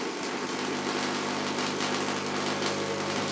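A dual G-811 vacuum tube Tesla coil firing: a steady, dense electrical buzz with a constant hum underneath, holding at an even level throughout, close and fairly quiet, with no talk.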